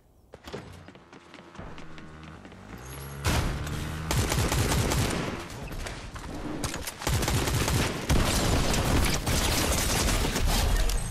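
A Fortnite gunfight plays out in dense, loud volleys of rapid gunshots and thudding impacts, building from scattered game sounds into near-continuous fire for most of the clip.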